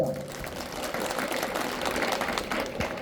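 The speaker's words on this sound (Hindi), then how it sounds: "जोरदार ताली बजाओ" Crowd at a Hindu religious darbar gathering claps loudly on cue, a continuous, slightly muffled rush of many hands heard at a distance and sustained evenly through the moment.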